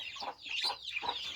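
Several chickens cluck in repeated short bursts, fairly close and clear, with no talk over them; the flock is a mix of breeds including Tiger, Fayoumi, Kadaknath and native deshi hens.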